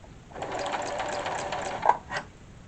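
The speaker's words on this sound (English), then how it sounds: "I'm going to put the needle down to my starting point, and I'm going to make a couple of stitches." A Silver Crest sewing machine fitted with an embroidery plate making a couple of stitches in fabric, a brief, close whirring mechanical run ending in a couple of clicks, without speech.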